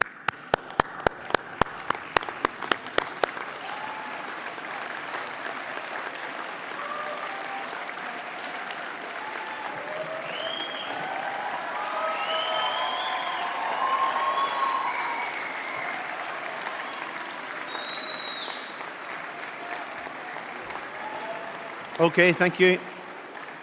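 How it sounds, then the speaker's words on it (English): Applause from a large crowd of graduates and guests at a City of Glasgow college winter graduation ceremony, opening with sharp claps and swelling into sustained clapping with scattered whoops, then a brief spoken thank-you near the end. "give them the loudest applause that you've got"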